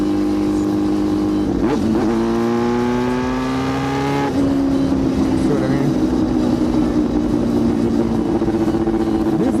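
A Yamaha R6 sport motorcycle with a very loud exhaust lugs and sputters in too high a gear, its uneven low engine note rising briefly in pitch then settling into a steady, rough drone close by throughout.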